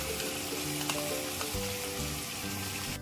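Soaked ground mustard paste hits a hot frying pan for kakrol pur, giving a loud, dense, continuous sizzle with faint stirring beneath.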